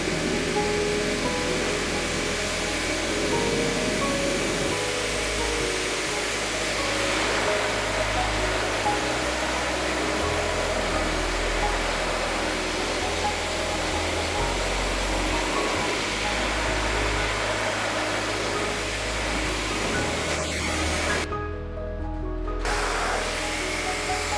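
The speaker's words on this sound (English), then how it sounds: "giving the area a thorough pressure rinse down" Pressure washer rinsing down a BMW E30 during a restoration detail, a loud, continuous hissing spray with a steady low motor drone underneath, broken by a brief pause near the end before the spray resumes.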